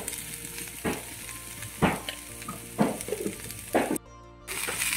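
Beans with salt sizzling in a pan, a soft steady fry broken by four spaced scraping stirs about a second apart, with a brief silent gap near the end.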